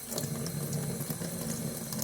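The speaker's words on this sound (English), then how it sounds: "now I have to run cold water under my thumb" Cold water runs steadily from a tap over a burned thumb, a continuous splashing rush with small flickers as it breaks over the skin, close by and alone.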